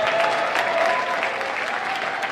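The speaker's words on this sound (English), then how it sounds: "Round of applause for them, please" Brisk, full applause from an audience at an Ignite Seattle talk night welcoming a new organizing crew, continuous clapping with a few whoops mixed in.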